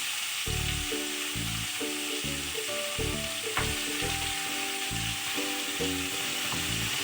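Vegetables sizzle and fry in a pan for a Kerala-style South Indian fish stew, a loud, steady crackle broken by rhythmic scraping and stirring strokes throughout.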